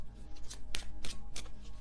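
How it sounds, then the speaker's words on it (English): A tarot card deck being shuffled up close, a series of soft riffling and slapping card sounds in an uneven rhythm over a low steady hum. "If I could shuffle this deck."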